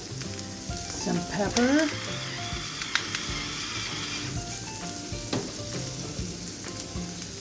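Zucchini and smoked turkey sizzle and fry steadily in a hot pan, a loud continuous crackle with a brief stirring clatter near the start and a few soft knocks, while a voice speaks briefly over it.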